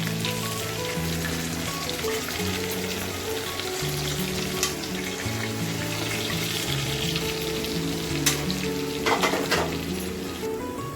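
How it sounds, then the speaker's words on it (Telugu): Chicken chop pieces fry in a pan, giving a steady, dense sizzle with occasional sharper crackles and a tonal melody running underneath. "ఇలాగా 2 సైడ్స్ బాగా యాగాలి పీస్. ఈ విధంగా ఫ్రై అవ్వాలి."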